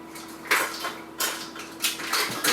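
Metal kitchen utensils clattering as someone rummages for a measuring spoon, three or four short jangling bursts of rattling cutlery at close range, with quiet pauses between.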